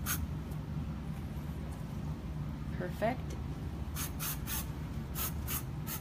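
Hairspray hisses from a can onto a styled holiday updo in a few short bursts near the end, after a brief spoken word.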